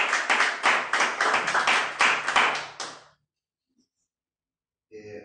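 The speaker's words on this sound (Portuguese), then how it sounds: "Dê um aplauso aí." A small audience clapping at a leadership school session, a few seconds of brisk, rhythmic applause from a handful of people that stops abruptly, followed by silence and a faint voice at the end.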